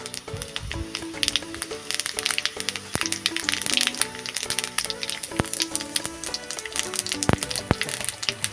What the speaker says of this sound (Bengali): তেলের উপরে প্রথমে দিয়ে দেবো জিরে